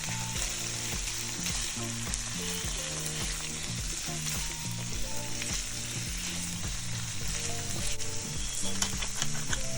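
Shrimp fry in a pan with dry seasoning, giving a steady close sizzle throughout, with background music playing underneath.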